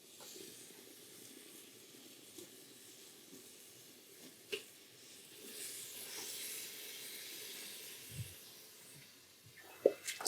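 Ground meat cooking in a pan for homemade Bolognese in a cottage kitchen, a steady soft hiss and sizzle running throughout with a few faint clinks and small knocks near the end.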